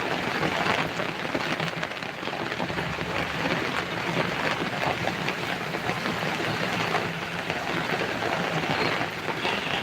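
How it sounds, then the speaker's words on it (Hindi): Heavy rain pours down steadily in a dense, continuous hiss with scattered drops pattering on surfaces, close and loud throughout with no voices. "देख लो बारिश हो रही है"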